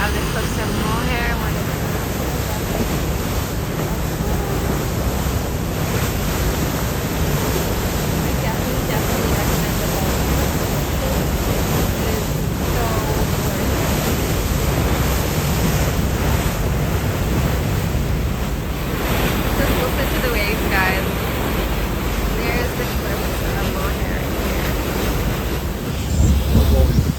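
Sea waves surge and wash at the foot of the Cliffs of Moher, a continuous loud roar of surf with wind buffeting the microphone and occasional voices underneath.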